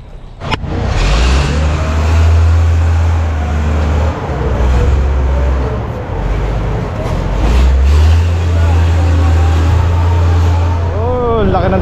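A truck engine rumbles steadily close by on a farm road, with a loud low drone that swells twice as it passes, under ongoing talk.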